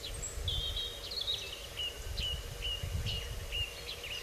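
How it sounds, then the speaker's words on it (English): Birds sing at dawn in a quiet, car-free countryside spot, repeated clear chirping phrases over a low wind-like rumble, moderately near and steady throughout. "Birds singing."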